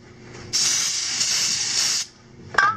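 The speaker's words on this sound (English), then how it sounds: "Spray a little bit more of this stuff" Aerosol cleaner sprays into the carburetor of a Suzuki DR650 motorcycle in one loud, close hiss lasting about a second and a half, followed by a quiet pause and a brief metallic clink.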